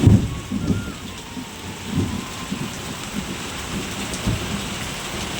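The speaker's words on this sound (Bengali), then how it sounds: "এবার বৃষ্টিটা দেখানোর জন্যই তোমাদের আবার উঠলাম" Steady rain pours down with a constant hiss, and low rumbles roll in now and then underneath; no voices.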